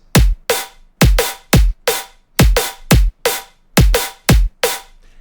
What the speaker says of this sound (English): a simple kick and snare pattern that sounds like this